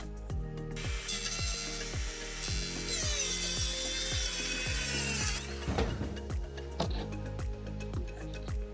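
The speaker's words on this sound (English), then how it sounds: "I use an offcut of plywood as a guide for the circular saw." A circular saw cuts wood on a roof repair job, guided along a plywood offcut, with a loud rising whine over rhythmic clicking and ratcheting sounds close by.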